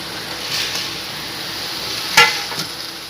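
Tomato and onion cooking together in a pan with a soft background sizzle, one sharp utensil scrape or clank near the end and a lighter one just after.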